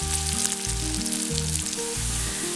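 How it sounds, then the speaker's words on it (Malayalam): Sliced onions frying in hot oil until brown for Malabar chicken dum biriyani, a loud, close, continuous sizzle and bubbling with a soft low rhythmic thumping beneath it. "ഇത് കുറച്ചിട്ടിട്ട് ഒരു ബ്രൗൺ നിറം ആകുന്ന വരെ ഒന്ന് ഫ്രൈ ചെയ്തെടുക്കാം."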